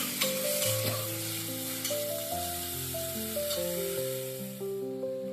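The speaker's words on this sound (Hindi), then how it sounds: "इसे भी सबके साथ अच्छे से भूनें।" Crushed garlic and chili frying with vegetables in a pan for veg biryani, a loud continuous sizzle with scraping stirs, over steady background music, no talking.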